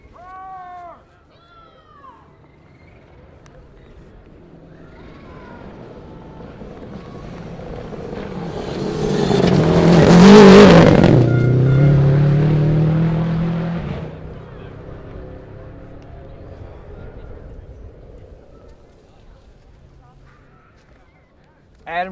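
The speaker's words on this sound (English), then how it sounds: "Next car up." A rally car on a forest stage approaches from afar, swells to a loud, revving engine roar as it passes close, then recedes into the distance, with birdsong around it.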